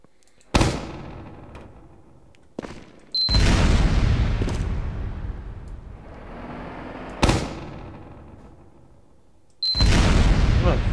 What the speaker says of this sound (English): We launched sticky bombs